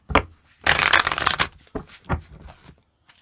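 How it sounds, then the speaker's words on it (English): Tarot cards are shuffled in one brisk riffle, preceded and followed by a few short taps and soft handling noises of the deck. "I'm going to go for 3 shuffles here."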